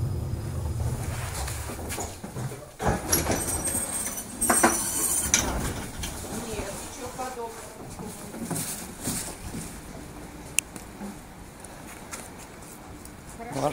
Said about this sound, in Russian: Уважаемые пассажиры, наш трамвай прибыл на конечную станцию.